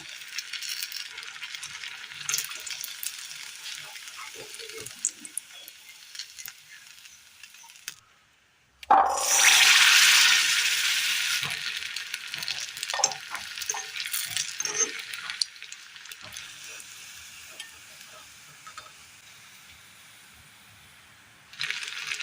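A Kerala jackfruit snack goes into hot oil. After a moment of near silence there is a sudden loud hiss, which settles into a continuous bubbling sizzle with light crackles.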